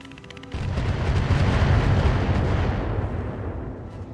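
An Archer mech in Roguetech fires missiles indirectly: a sudden loud rushing roar of launches and blasts swells, then slowly fades into a rumbling tail.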